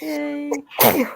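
A woman's sharp, bursting sneeze breaks out among friends at home, loud and close, just after a brief spoken word.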